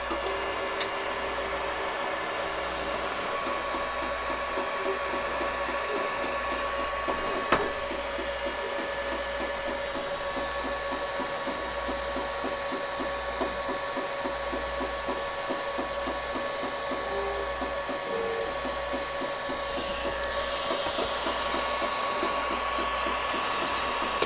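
An Ender 5 Pro 3D printer runs with a steady motor whine and a rapid, regular ticking grind from the extruder, sustained and close, with a low pulsing hum underneath.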